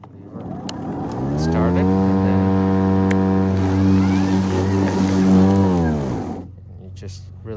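EGO electric ride-on deck mower starting up with a rising whine that holds as a loud, steady harmonic hum for several seconds, then winds down and stops; faint clicks come before and after.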